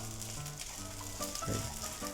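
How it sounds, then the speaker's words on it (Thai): Rice fries in a pan still holding the juices from grilled beef, giving a steady close-up sizzle with soft scraping and stirring sounds and no talk. "เอาข้าวเนี่ยมาล้างกระทะนั่นแหละแล้วก็กลิ่นดีๆของมันอ่ะ เข้าเป็นเม็ดข้าว"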